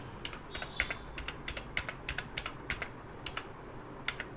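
Steady typing on a computer keyboard as marks are entered into an Excel spreadsheet, a close, even run of individual key clicks with no talk over them.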